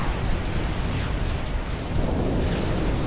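Torpedoes explode in the Supreme Commander strategy game, producing a dense, continuous roar of overlapping blasts and rumbles that stays loud and steady throughout.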